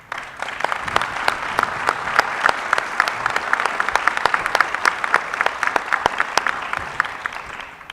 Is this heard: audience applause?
yes